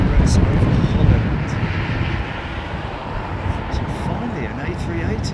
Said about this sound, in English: An A380, blimey, that's rare.